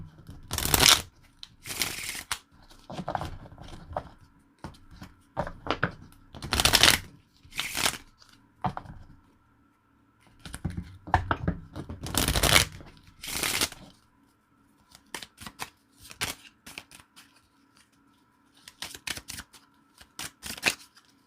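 Tarot cards are shuffled up close in quick repeated bursts of riffling and slapping, separated by short quiet gaps.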